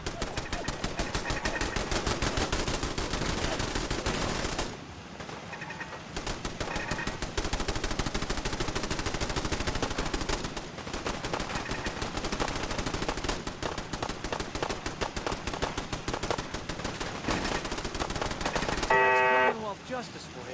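Automated turrets firing on super mutants in Fallout 4, rapid machine-gun bursts hammering almost continuously, loud and close, with brief lulls between volleys.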